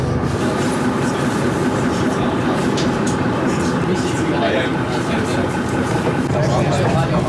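A Berlin U-Bahn train rumbles at Kleistpark station, making a loud continuous rolling roar with faint rattles and clicks of the cars. It runs through the whole stretch while speech is also picked up.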